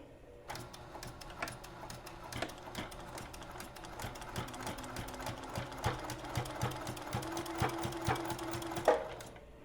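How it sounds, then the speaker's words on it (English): A sewing machine runs steadily, stitching a minky baby tag blanket, with a continuous rapid mechanical whir and needle clatter close by, briefly pausing and shifting pace for forward and back stitches. "now I'm gonna go ahead, forward stitch, back stitch, and then continue on around."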